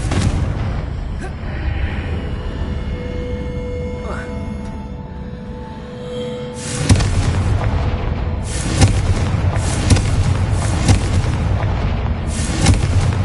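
Blasting-curse explosions in Hogwarts Legacy come as a string of loud, booming bursts in the second half of the clip. They follow a quieter stretch of game ambience and spell effects, and a voice is heard during the spellcasting.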